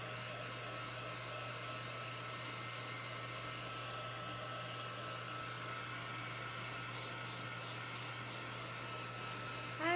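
Steady, even whir of a heat tool or hair dryer blowing over chalk paste on a craft project, running continuously at moderate level with no talk.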